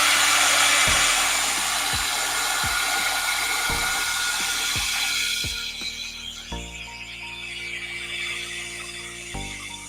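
Hair dryer blowing over a watercolor painting of a watermelon, a loud steady whooshing hum that shifts and drops in pitch midway, with a few soft knocks and handling clicks.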